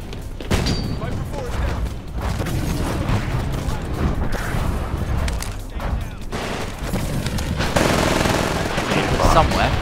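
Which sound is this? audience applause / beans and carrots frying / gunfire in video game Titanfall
gunfire in video game Titanfall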